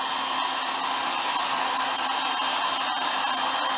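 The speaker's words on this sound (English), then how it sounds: "now I'm just going to take the heat gun, and all I'm going to do, I'm going to come right up over the top" A heat gun blows steadily over wet Stone Coat epoxy on a countertop being poured as brown fantasy marble, a continuous close hiss-roar with no pauses, held at an even level throughout.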